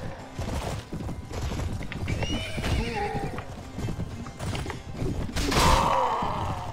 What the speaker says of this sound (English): Go, horse.